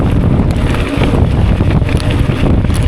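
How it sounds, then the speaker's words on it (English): Strong crosswind buffets the microphone during a gravel bike race on steep, loose gravel, a loud continuous rumbling gust noise that fills the whole moment without any speech. "Wind has picked up, and it is kind of sketchy."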